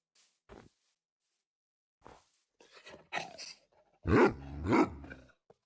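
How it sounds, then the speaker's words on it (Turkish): A wolf in the Minecraft video game growls and snarls in a few short bursts, the loudest pair near the end, with quiet gaps in between and no talking. "Şimdi bu ne biliyor musunuz arkadaşlar? Bu Wolf."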